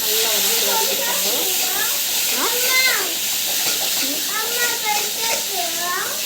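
Potatoes sautéing in a pan give a steady hissing sizzle that runs the whole time beneath a voice talking almost continuously.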